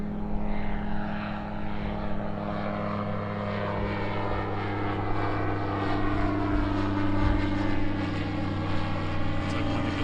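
A propeller floatplane drones overhead on an overcast day, a steady loud engine and airscrew hum with droning harmonic tones holding throughout, no talk.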